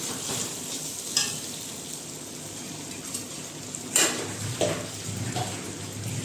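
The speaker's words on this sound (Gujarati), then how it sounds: "હવે આપણે એમાં કોથમીર નાખશું અને લીંબુનો રસ નાખી અને મિક્સ કરશું બધું" A potato dish is mixed in a pan with coriander and lemon juice, a low continuous sizzle broken by a few sharp spoon-on-metal knocks and scrapes, close and without talk.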